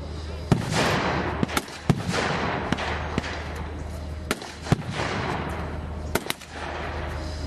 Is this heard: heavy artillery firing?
yes